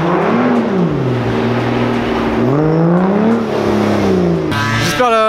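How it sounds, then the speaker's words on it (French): A 600-horsepower Mansory-tuned Aston Martin DB9 Volante engine drones loudly from inside, rising and falling in pitch as it pulls hard, ending with a sharp high rev. "L'accélération, elle est violente."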